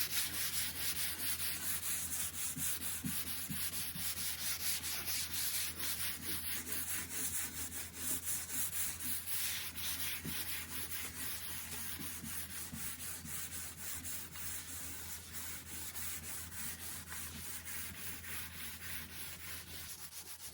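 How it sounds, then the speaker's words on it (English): A wooden dresser surface is scuff-sanded by hand with 220 grit sandpaper during a furniture makeover. The rhythmic rubbing strokes are close and steady for the whole stretch, fairly quiet, with no voices. "I'm going to scuff sand the entire surface using 220 grit sandpaper"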